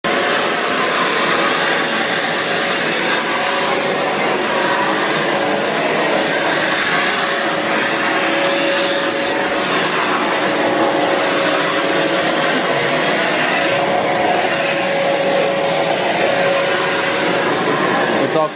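A carpet cleaning machine runs indoors, giving a loud, steady whining drone with a sustained high tone that holds without a break for the full length.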